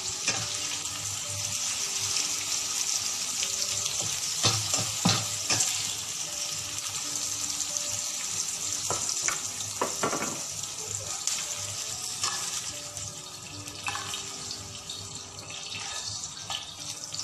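Onions sauté in a frying pan with a constant broadband sizzle. Scattered scrapes and clinks of a utensil stirring sound through it, and a voice speaks faintly at times.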